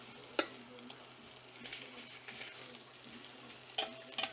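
Meat for a homemade spaghetti sauce browns in a pan with a faint, steady sizzle, broken by a few soft utensil taps and clicks, quiet and unaccompanied by speech.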